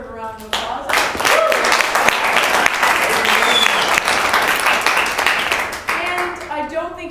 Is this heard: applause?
yes